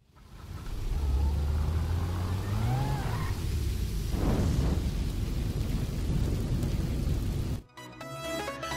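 A car in GTA Online catches fire while parked over molotov flames, producing a loud, sustained roaring burn with a sharper surge midway, then an abrupt cut to a different game sound near the end.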